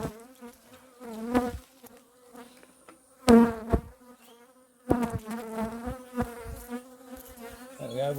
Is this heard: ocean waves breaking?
no